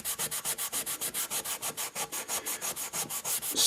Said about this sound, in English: I'm going to see if I can get that out with a metal Scotch-Brite